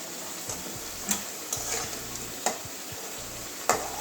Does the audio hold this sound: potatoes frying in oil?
yes